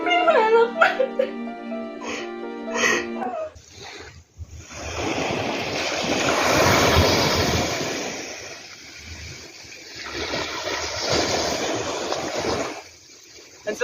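Sea waves wash onto a beach in broad swells of surf that rise, fade and return, with gusts of wind on the microphone, after a brief stretch of music and crying voices at the start.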